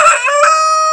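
A rooster crows once on a small homestead, a loud, close, harmonic call heard alone in a brief burst.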